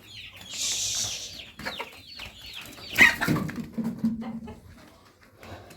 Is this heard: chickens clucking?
yes